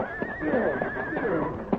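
A horse whinnies with a long, wavering high neigh that rises and falls across the short clip, close and fairly loud, with a sharp snort or stamp near the end and a voice briefly under it.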